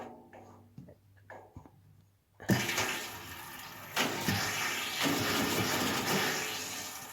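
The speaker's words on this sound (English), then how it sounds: "Now I'm gonna let the water go in by opening this valve." Water rushes into radiator pipes the moment a valve is opened. A loud, steady flowing roar bursts in after a few quiet clicks and handling sounds, and it continues with surges as the pipes fill.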